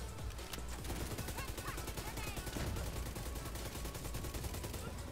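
Rapid automatic gunfire in the video game Division 2, a fast continuous stream of sharp shots, fairly faint in the mix, with voice activity faintly present.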